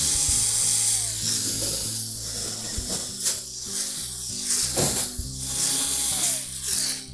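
Quarter-inch hex head screws being unscrewed from a GE range with a power driver, repeated whirring bursts with ratcheting clicks and metallic rattles, fairly close and steady, no talking.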